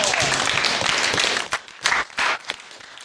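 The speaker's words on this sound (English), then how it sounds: "everybody give him a round of applause" Student audience at a high school JROTC public speaking event breaks into a burst of applause that tapers off within a couple of seconds, leaving a few scattered claps and bits of movement.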